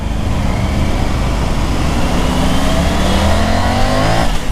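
A loud Triumph Tiger 900 motorcycle engine revs up steadily, its pitch climbing as the bike accelerates close by.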